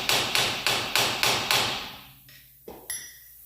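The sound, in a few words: small hammer and screwdriver tapping a Wrangler front axle seal free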